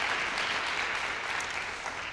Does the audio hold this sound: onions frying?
no